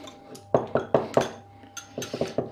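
Egg whites being mixed with a whisk in a bowl, a quick series of bright metallic clinks and taps against the bowl in two rhythmic runs, close and clear.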